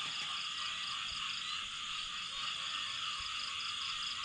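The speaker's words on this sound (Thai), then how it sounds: "สียงกบเสียงเขียดบ้านนา" Frogs croak across rice fields at 4 a.m. in a rural farming area, forming a dense, continuous chorus of many distant callers. The calls blend into a steady nighttime drone, with no speech.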